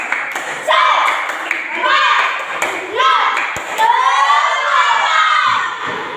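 Schoolchildren in a classroom group perform a rhythmic spirit clap, sharp claps and thumps mixed with their shouting and chanting voices, loud and close, in bursts separated by brief pauses.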